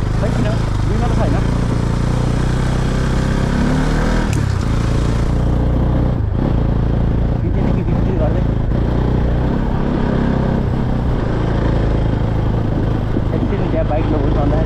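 A motorcycle engine drones steadily through a village ride in Nepal, with constant low rumble and brief clattering bumps, while voices talk over it.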